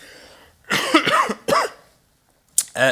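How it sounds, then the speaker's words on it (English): A run of close, harsh coughs in quick succession from a speaker with a tickly cough at a council committee meeting, then a pause and another short cough, with no talking. "I've got a bit of a tickly cough"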